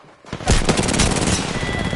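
Rapid gunfire in the battle-royale video game Apex Legends: a dense, sustained burst of shots that starts abruptly and keeps hammering loudly and close for well over a second, with no voices.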